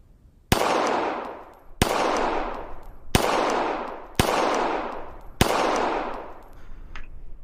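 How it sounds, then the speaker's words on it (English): Five loud gunshots are fired one at a time at a target on an outdoor shooting range, each sharp crack followed by a long ringing echo, spaced about a second apart. "the last 4 shots went a little bit low"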